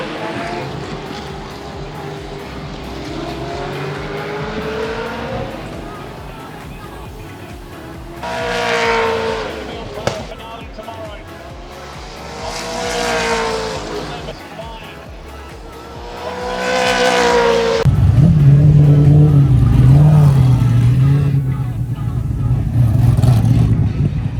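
Supercars in a qualifying session scream past one after another, rising and falling engine notes sweeping by in several distinct passes, ending in a louder, sustained lower engine drone.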